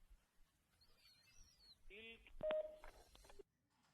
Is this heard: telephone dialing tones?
yes